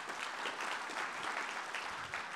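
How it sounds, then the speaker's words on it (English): An audience applauds with a steady, dense patter of clapping that stays even throughout, heard at a moderate distance and fairly faint. "Let's get a round of applause"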